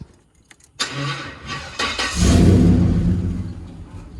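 A car engine cranks after a few small clicks, catches, and settles into a loud, close rumbling idle.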